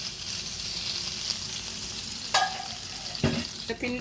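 Homemade paneer pieces roasting in hot oil in a kadai for paneer curry, giving a steady soft sizzle and crackle throughout, with a few brief louder clinks and bursts near the end.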